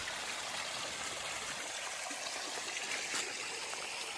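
A mountain stream fed by fresh rain rushes steadily along a trail, a constant, even hiss of flowing water with no other sounds, at low volume.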